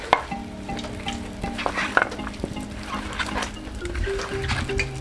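Battered cauliflower for gobi manchurian fries in hot oil, a moderate crackling sizzle over a low kitchen hum, with scattered clinks and bursts of bubbling.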